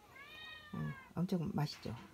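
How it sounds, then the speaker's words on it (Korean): A house cat gives a drawn-out rising meow, then a quick run of shorter meows, begging for food as meat is cooked nearby. Someone speaks over the later calls. "우리 고양이가 냄새를 맡고 또 소리하네요."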